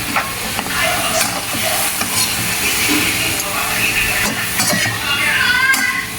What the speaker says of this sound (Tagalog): Then, lagyan natin yung kabuti. Yan. Halo ulit.